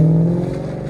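A 2014 Dodge Charger R/T with a 5.7L HEMI V8 and Magnaflow Magnapack exhaust rumbles loud and close, a steady deep idle-to-rev drone with a brief rising tone at the start.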